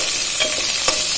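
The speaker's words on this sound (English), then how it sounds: "So you can hear this spluttering, so it's right time to put in the tondli." Hot oil splutters and sizzles in a cooking pan, a continuous loud hiss with a couple of sharper pops, close up and without talk.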